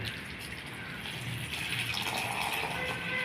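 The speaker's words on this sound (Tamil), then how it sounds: "அரை லிட்டர் தண்ணியை ஒட்டுக்கவே கொட்டிடுங்க உள்ள" A steady stream of half a litre of water pours continuously into a jar, close and even, with a faint hollow gurgle and no talking.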